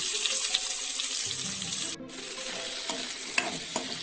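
Onions stirred in a pan of hot coconut oil with mustard seeds and curry leaves for onion theeyal, a steady loud sizzle with scraping stirs and a brief break midway, close and without talk.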